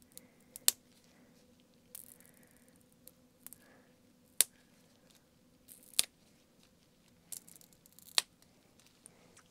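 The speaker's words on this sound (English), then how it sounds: "Now I am going to remove the dual forms." Dual forms are peeled off freshly set polygel nails, producing sparse, sharp little pops and snaps close by, separated by quiet gaps.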